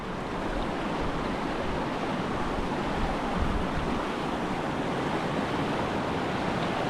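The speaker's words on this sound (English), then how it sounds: "So it looks like a very big river." A large river on the Tavy Cleave trail on Dartmoor rushes and churns as a steady, dense roar, close and loud throughout with no pauses and no voices.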